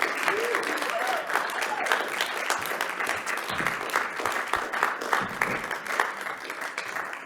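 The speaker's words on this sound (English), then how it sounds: "Another round of applause for Amanda Trapp." Sustained audience applause, dense clapping from a crowd at a live show, steady and fairly loud throughout without a break.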